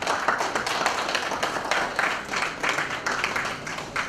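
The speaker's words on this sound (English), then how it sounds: "A round of applause for our ladies and gentlemen." An audience at an Institute of Directors stakeholders forum on infrastructure in Nigeria claps steadily in a dense, sustained round of applause that fills the room with no voices heard.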